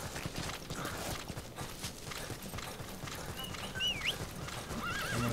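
Horse in Metal Gear Solid V: The Phantom Pain whinnying while its hooves clip-clop at a run, a steady quiet galloping patter under a neigh, with faint game effects.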